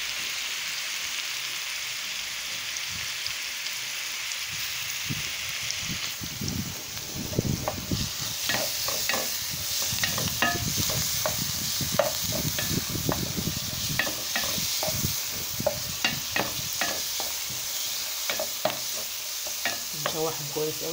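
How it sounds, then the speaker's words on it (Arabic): Pigeon pieces sauté with onion and pepper in a hot pan, a steady sizzle broken by repeated scraping and clattering as the mixture is stirred and turned. The sound is close and there is no talk. "نشوحهم كويس قوي، نقلبها كويس قوي مع بعضها كده مع البصل والفلفل."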